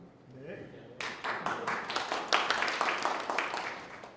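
An audience at a forum applauds after a short stretch of speech, with many hands clapping in a lively, uneven burst that continues to the end.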